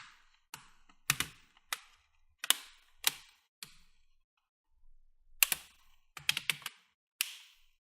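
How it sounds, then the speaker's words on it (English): Plastic screen bezel clips on an ASUS D553SA laptop snapping into place as the corners and sides are pressed down, a series of sharp close clicks in irregular clusters separated by quiet gaps. "You're gonna push down every corner, all the sides. You're gonna hear those click sounds."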